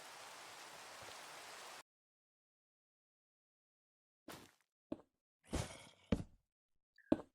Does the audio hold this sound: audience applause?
no